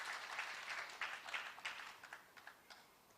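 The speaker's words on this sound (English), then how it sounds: "So give them a clap as they take their seats." Audience clapping in a general assembly hall as people take their seats, fairly faint and distant, a scattered round of hands that thins into sparse individual claps.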